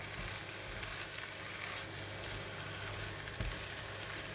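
Fried kuey teow with tofu and dried prawns sizzles steadily in a hot pan as it is stirred and mixed, a constant close crackle with a few soft scrapes.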